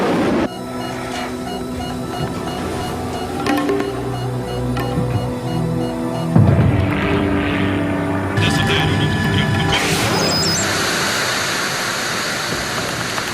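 A surveillance drone flies overhead in a tense military scene, its steady engine hum and tonal drone running continuously under dramatic score and rising effects, with brief speech in the mix.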